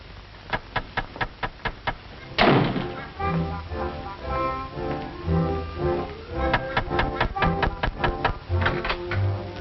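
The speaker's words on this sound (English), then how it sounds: "Someone's knocking at the door." Knocking at a door in a 1947 comedy film: about seven sharp, evenly spaced raps, then an orchestral music swell and a steady run of softer taps and thuds underneath.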